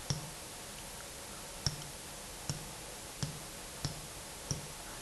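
Graphing calculator keys are pressed one at a time, six soft, evenly spaced clicks at a steady unhurried rhythm, close and faint over a low background hiss with no talking.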